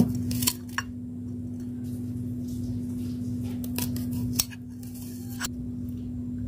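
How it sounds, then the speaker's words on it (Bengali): A knife slices a peeled cucumber into round pieces for a salad, giving a handful of sparse, crisp cutting taps spread out over a steady low hum in a quiet kitchen. "এবার শসাটা ছাড়িয়ে নিয়েছি, এবার গোল গোল করে রাউন্ড করে কেটে নেব"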